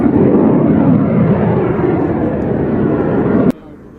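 Aircraft performing a flying display at the Royal International Air Tattoo give a loud, steady engine roar that holds for about three and a half seconds, then cuts away abruptly to a quieter background.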